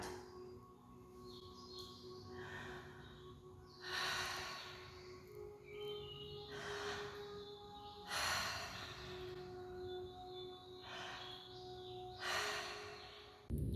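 Slow, deep breaths in and out during a gentle stretching exercise, several long airy exhales rising and fading at a steady pace, quiet and close, with faint birdsong in the background.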